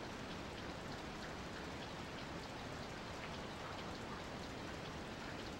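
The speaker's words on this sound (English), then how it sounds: "It rains. Of course it rains." Steady, dense rain hisses evenly with no break, in a rainy scene from Skies of Arcadia Legends; no voices or other sounds cut through.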